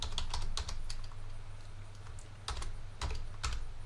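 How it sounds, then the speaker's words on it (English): Rapid keystrokes on a computer keyboard while entering a tag name in PAC programming software, irregular bursts of close clicks with brief pauses, no talking. "I'm going to go up here and I'm going to type in start"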